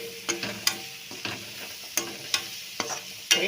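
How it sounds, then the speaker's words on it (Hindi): Spices being stirred into soybean and chana dal cooked in buttermilk make a soft sizzle, broken by sharp, irregular clinks and scrapes of a spoon against the pan, close and with no talking. "अब इसको बराबर मिक्स कर देंगे।"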